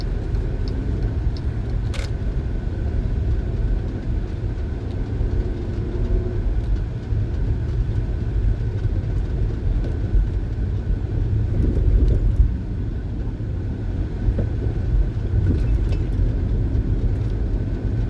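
Cars pass on a road in a steady, continuous low rumble of traffic that fills the whole stretch, with slight swells as vehicles go by at moderate distance.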